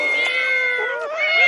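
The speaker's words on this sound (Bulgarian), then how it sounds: "Колко ли котки има там?" Several cats meow in close overlapping calls, loud and tonal, with rising and falling wails and no pause over a second and a half.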